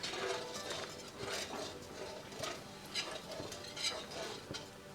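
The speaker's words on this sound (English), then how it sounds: "I'll start whisking my milk" Milk for phirni being whisked in a pot after coming to a boil, a quiet, rhythmic scraping and swishing repeated every second or so over a soft bubbling background.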